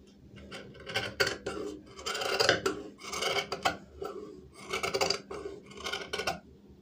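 Scissors cut through fabric for a collar kurti neck piece, a series of close, raspy snips and slicing strokes in uneven bursts with no voices.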